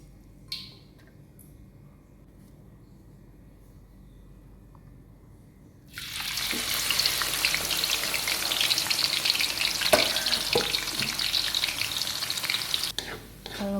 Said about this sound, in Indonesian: Kalau goreng saya tidak terlalu sering mengaduk,